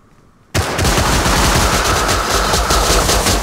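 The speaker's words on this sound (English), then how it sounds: "There's a freaking turret!" An automated turret in the game Rust opens fire abruptly after a quiet moment, then keeps up a loud, dense, unbroken stream of rapid gunfire at close range.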